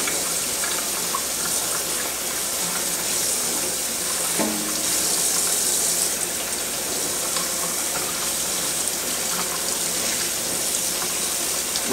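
Warm tap water runs steadily into a sink while a Solofill reusable coffee cup is rinsed under it, a constant close, full splash with a small clink partway through.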